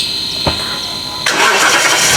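A 2012 Lexus GX460 engine starts up: a brief click, then a crank that catches and settles into a loud, steady running roar close by.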